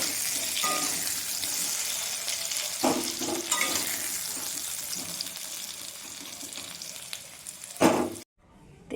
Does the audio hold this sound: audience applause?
no